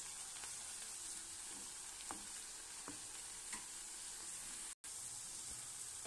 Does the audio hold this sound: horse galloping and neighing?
no